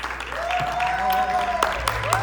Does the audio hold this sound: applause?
yes